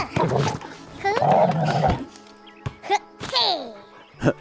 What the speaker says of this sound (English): Aw, the dog likes playing.